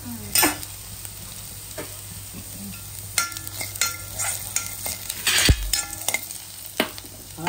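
Peanuts stirred in a pan for sabudana upma, giving a quiet background sizzle with scattered scraping and clinking strokes of the spoon. The louder scrapes are irregular and there is no talking.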